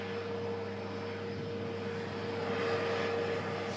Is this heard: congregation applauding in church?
no